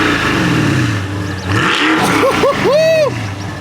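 A muscle car engine with active exhaust revs up close and loud, its deep rumble climbing and falling through several sharp blips and swells.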